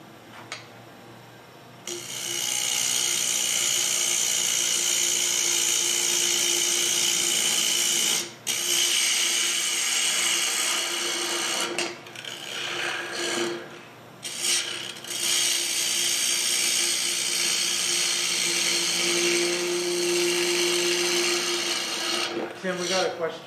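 A wood lathe spinning at about 2,000 RPM trues the face of a 10 inch bowl, with a loud continuous rasping tool cut that dips briefly at pauses and rises again, steady and close.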